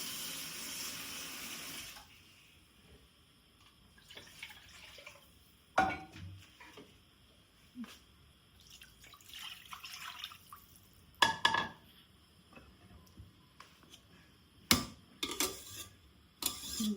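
Water is poured into a pot of rice for a chicken biryani, with a brief running pour at the start followed by scattered drips, splashes and clinks of utensils in a quiet kitchen.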